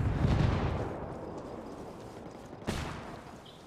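Gunfire and explosive blasts in Ghost Recon Wildlands, a dense rumbling volley that fades over the clip before one sharp crack near the end.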